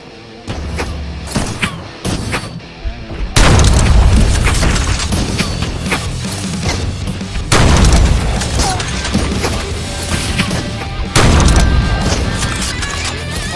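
Video game firefight with an RPG blast and gunfire: repeated loud booms, crashes and bursts of shots in a dense, continuous barrage with heavy impacts throughout.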